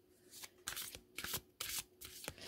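Tarot cards are shuffled by hand in several quick riffling bursts with short pauses between them, crisp and close in a quiet room.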